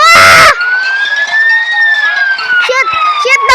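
A fire truck siren wails in the city-building game TheoTown, one long rising and falling tone. Excited voices talk over and around it.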